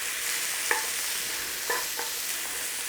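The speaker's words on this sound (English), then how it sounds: "Okay, a quick stir fry around." Onions stir-fried in a pan for a chicken and onion dish, giving a steady broad sizzle with a few brief scraping stirs of the spatula, close and moderately loud.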